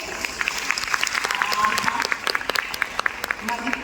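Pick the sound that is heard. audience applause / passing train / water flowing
audience applause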